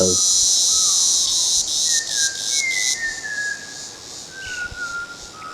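Clear, sliding whistled notes from a whistling thrush ring out over a steady high drone of crickets in a Wayanad jungle, several phrases spaced a moment apart, fairly close.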